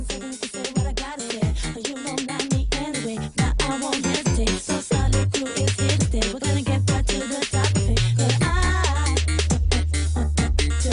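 A UK garage track plays loud and full, with punchy beats, dense layered sounds and a deep sustained bassline coming in toward the end.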